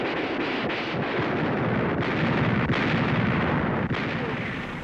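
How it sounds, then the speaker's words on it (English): Battleship 16-inch guns bombard Okinawa, a dense, roaring wall of booming artillery with several sharper blasts standing out, loud and continuous in an old archival recording. "16-inch cannons was firing"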